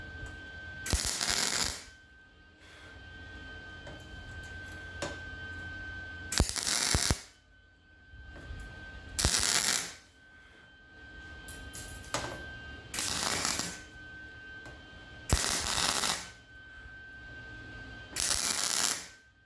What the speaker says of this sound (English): Weld her up.